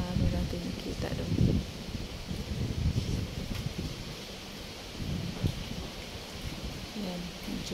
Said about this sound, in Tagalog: Medyo mahangin talaga siya.